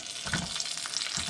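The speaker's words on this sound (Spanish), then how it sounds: "Ahora lo que voy a hacer también en una sartén caliente con manteca, vamos a guisar estas cebollas" Onions cooking in lard in a hot skillet for liver tacos: a brief, quiet, continuous frying hiss with faint crackles, close by and with no voices.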